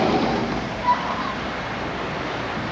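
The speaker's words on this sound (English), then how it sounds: "you can hear the sound of the ocean." Ocean waves roll in as a steady, broad wash of surf heard from a second-floor bedroom balcony above the railing, moderately loud and continuous with no talking.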